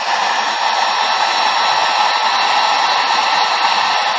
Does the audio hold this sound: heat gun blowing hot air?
yes